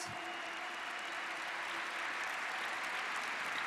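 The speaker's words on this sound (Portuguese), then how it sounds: "Pode aplaudir com força." A church audience breaks into loud, steady applause, the clapping holding a dense and even texture from start to finish without any speech.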